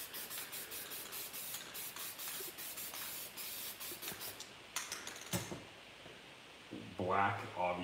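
Rust-Oleum Quick Color black spray paint hissing onto a page for spray paint art, in a series of steady close bursts with short pauses, followed by a few light taps and rustles.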